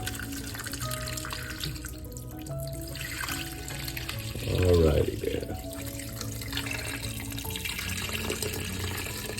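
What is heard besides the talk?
tap water filling a pot for beef shank soup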